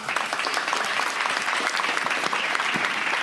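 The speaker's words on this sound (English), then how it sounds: "Let's give all the panelists a really warm round of applause." An audience at a Seattle city debate applauds the panelists with a dense, sustained wash of clapping that holds steady and fairly loud throughout.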